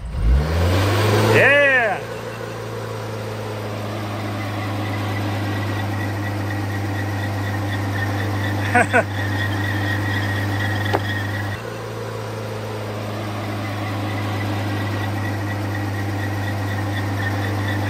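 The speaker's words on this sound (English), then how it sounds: "Love that reverse burnout." Car engine revving hard during a reverse burnout, a loud sustained roar with rising pitch sweeps at the start, steady high-rev drone throughout with brief spikes, while people talk briefly over it.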